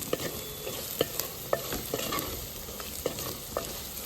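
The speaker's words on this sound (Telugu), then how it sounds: "రుచికి తగ్గినంత ఉప్పు వేసుకొని ఇదంతా కలిపేసుకోవాలి" Moong dal, raw mango pieces and salt stirred together in a pan, a spoon scraping and tapping the metal in irregular strokes over a low steady sizzle, close and alone.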